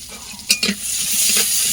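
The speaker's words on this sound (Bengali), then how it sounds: "আর পেঁয়াজ দিয়ে দিচ্ছে আর একটু সর্ষের তেল দিয়ে দিচ্ছে" Onion frying in mustard oil in a pan, with a steady close sizzle and a couple of quick stirring scrapes and clinks.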